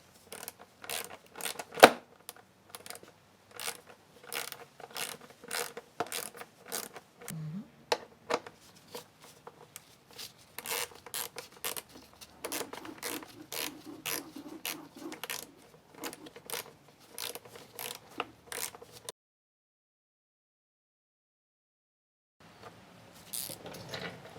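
A torque wrench tightens bolts on a Harley V-Rod, giving a long run of sharp, close metallic clicks in quick bursts that stop abruptly near the end, then resume briefly.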